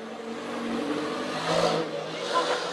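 A vintage car with a four-cylinder, double overhead cam, twin-ignition engine running steadily at speed, a loud, even mechanical drone with a slight swell in the middle.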